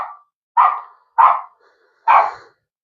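Dogs bark outdoors on a rainy day, four short, loud barks spaced about half a second apart, with no other sound between them.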